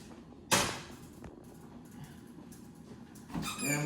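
A freezer door pulled open in a home kitchen, one sharp close thump and rattle of the door followed by quiet shuffling and a second rustling clatter near the end, with no voices.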